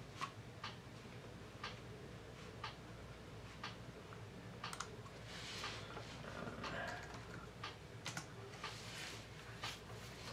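Typing on a Nexxtech Bluetooth keyboard: quiet, irregular key clicks and taps over a low background hum, faint and close, no speech.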